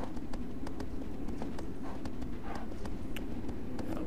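Steady clip-clop of horse hooves at a brisk trot in Shadow of the Colossus, evenly paced over a constant low rumble.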